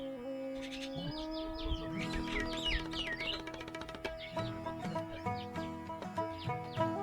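Birds chirp and trill in quick bursts over a steady hum of background sound, with one bird calling repeatedly at moderate distance, among rows of palm trees in Vadun village.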